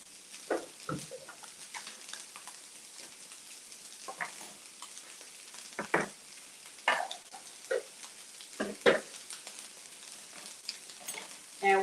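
Two eggs cooking in a pan for homemade hibachi give a quiet sizzle, broken by repeated louder scrapes and clacks of a utensil against the pan at an uneven pace, with no talking.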